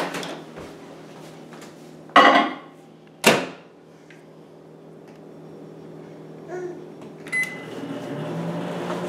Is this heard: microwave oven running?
yes